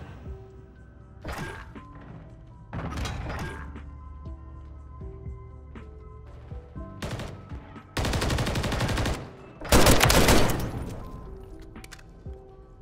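Repeated shotgun-style blasts from a JAK Jawbreaker in a first-person shooter, single thumping shots spaced across the first seconds, then two dense loud bursts of sustained fire near the end.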